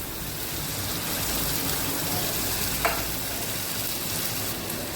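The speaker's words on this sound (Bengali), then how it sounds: "এরপরে আমি দিয়ে দিচ্ছি মশলাটা। এই মশলার মধ্যে আছে আদা রসুন টমেটো চারমগজ আর ধনে বাটা দিয়ে দিলাম।" A wet spice paste of ginger, garlic, tomato, melon seeds and coriander hits fried onions in hot oil, giving a loud, dense, steady sizzle with a faint clink partway through, close up and alone.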